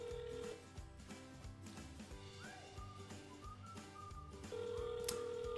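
Ringback tone of an outgoing telephone cold call placed through a dialer, steady tonal purrs repeating under a faint background hum, with no one speaking.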